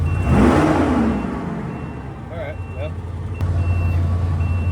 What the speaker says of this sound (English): Yep, there you go. Truck runs.